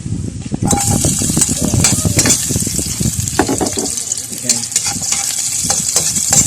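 Garlic sautéing in hot cooking oil as the base for a seafood kare-kare with crab, shrimp and mussels: a loud, dense, continuous sizzle with scattered stirring clicks and clatter throughout.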